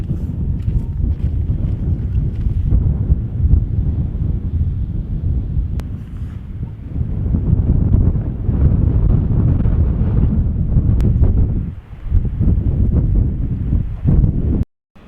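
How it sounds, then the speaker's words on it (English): Strong wet wind buffets a microphone on an exposed rocky hilltop, roaring low and loud in a continuous rumble with brief dips, rustling and handling noise mixed in. "Wet and windy up there"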